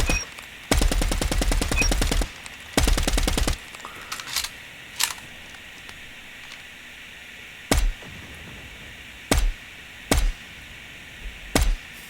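KN-44 SMG fire in Call of Duty, two loud rapid full-auto bursts up front, then a few lighter single shots spaced through a quieter stretch, close and alone without talk.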